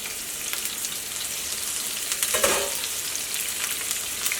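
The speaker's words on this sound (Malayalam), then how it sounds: "ഇനി ഇതിലേക്ക് സവോള ചേർക്കാം." Sliced onions dropped into hot oil for a sardine masala, giving a steady hissing sizzle with a brief louder burst midway as they hit the pan, fairly quiet overall.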